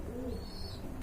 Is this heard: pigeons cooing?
yes